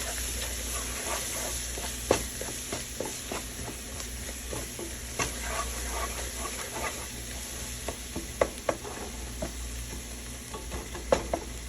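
Flour being stirred into a hot pan for chicken gravy, a steady sizzle and hiss with repeated scraping strokes and occasional sharper clicks of the spoon against the pan, close and alone.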